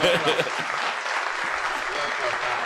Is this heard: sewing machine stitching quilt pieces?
no